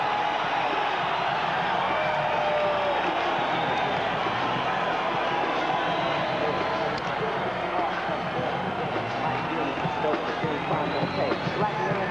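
Stadium crowd at a minor league ballpark roaring continuously as boxer Michael Nunn emerges from the dugout for a title fight, a steady wash of cheering and babble with no breaks.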